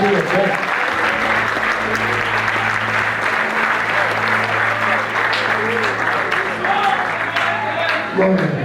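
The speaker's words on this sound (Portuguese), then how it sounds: "está aplaudindo a Jesus porque Ele é bom" Church congregation applauding at a night vigil service, a dense, steady wash of clapping from a large crowd filling the space throughout, with voices and a low sustained tone running underneath.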